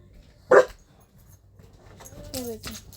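A small dog gives one sharp, loud bark near the start, then quieter whimpering follows among faint background sounds and a voice near the end.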